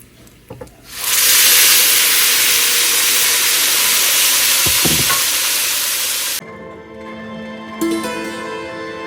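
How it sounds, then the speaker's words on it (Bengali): A spice paste with chillies, cumin and asafoetida hits hot oil with a sudden loud, roaring sizzle that hisses steadily for several seconds, then cuts down to a quieter crackle with soft clinks. "তো মশলাটা সুন্দর করে কষানো হয়ে গেছে আর দেখুন তেল চারিদিক দিয়ে তেল ছেড়ে ছেড়ে এসেছে"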